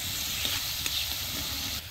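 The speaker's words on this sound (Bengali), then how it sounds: "সব মশলা আমি এরকম করে ভেজে নিব।" Spices frying in hot oil for a thin fish curry with potato and pointed gourd, a dense continuous sizzle with a couple of faint stirring taps, close and fairly loud.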